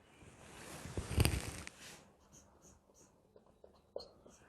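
Chalk or marker scratching units onto a board during a physics lecture, a few near, faint scrapes and taps building to one sharper stroke, then scattered light ticks, with no talk.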